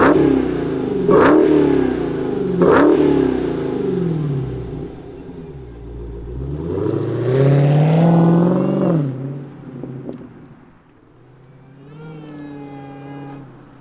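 A Dodge Challenger Hellcat Redeye's supercharged V8 barks to life with two sharp revs, then settles into a rumbling idle before a longer rising rev that falls away, close and loud.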